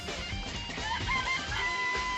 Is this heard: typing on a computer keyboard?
no